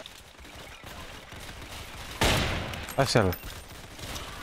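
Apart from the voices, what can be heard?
machine gun firing in Roblox WW2 video game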